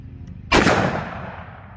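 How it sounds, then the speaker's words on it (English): .357 Magnum XTP round fired from a 2-inch Ruger SP101 revolver during ballistic gel testing: a single loud, sharp gunshot with a long decaying echo, no talking. "Now let's try the same XTP out of the 2-inch SP101."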